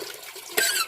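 Water gushes in a short bright burst from a repaired hand water pump (poso) at a farmhouse, coming after a quieter trickle and close to the listener.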